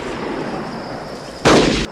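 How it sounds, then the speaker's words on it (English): A single burst of gunfire from a Western film scene cracks out loud and close near the end, a brief sharp blast with a short rumbling tail over a quiet background. "the gunshots start firing"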